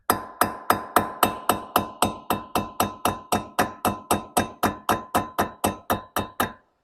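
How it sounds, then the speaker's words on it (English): Steady, evenly spaced metal hammer blows on a clutch on a jack shaft, about twenty sharp strikes in a row, loud and close with a clanging ring after each hit. "I might swap to a different hammer"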